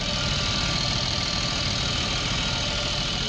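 A tractor with a newer, cleaner higher-tier engine idles steadily at close range, a constant low rumble with an even mid-range drone and no change in pace, with no voices.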